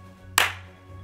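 A single sharp hand clap, loud and close, imitating lightning in a children's rainstorm game, with a quick decay and faint background hum.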